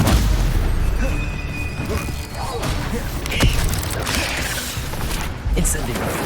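Spells cast in Hogwarts Legacy, including fire and stunning spells, burst in a run of booms, crashes and whooshing magical effects, loud and layered against ongoing game ambience.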